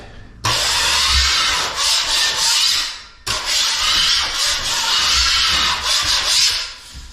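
A blade scrapes high points and a lifted lip off a plasterboard joint in two long, steady, close strokes separated by a brief pause, with a rough, raspy texture and no voices.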